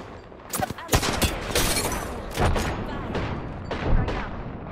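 A frag grenade goes off during a video game battle royale match, with several booming blasts and rapid crackling gunfire bursts up close, layered with game effects and brief player voices.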